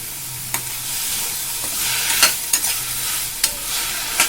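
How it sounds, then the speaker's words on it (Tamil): Chopped chow chow (chayote) sautéing with salt in a pan, a constant sizzle broken by several distinct scrapes and taps of stirring, close and clear, with no voices. "உப்பு போட்டு சேர்த்து வதக்கும்"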